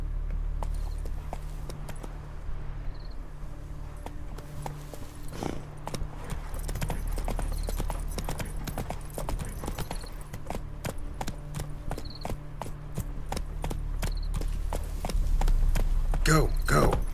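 Roach's hooves in the Witcher 3: Wild Hunt video game, a steady rhythmic clip-clop of a horse moving at pace, close and continuous over a low hum, with bursts of other game sounds near the end.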